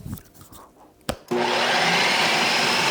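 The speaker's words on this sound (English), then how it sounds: "I love my Ninja Creamy, but it's so freaking loud, and sometimes it only gets even louder." A Ninja Creami ice cream maker starts after a few faint clinks and a short bang, then runs in a loud, steady, harsh grinding whir that holds to the end.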